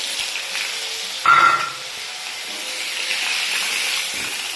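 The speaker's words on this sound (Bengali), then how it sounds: "পটল দিয়ে দিয়েছি, পটল ভাজছি এখন" Pointed gourd (potol) frying in oil sizzles steadily up close, with a brief louder burst of spitting and a clink early on before settling back to an even hiss.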